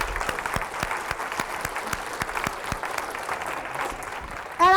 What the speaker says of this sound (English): I'd like a round of applause for Dean for bringing me here.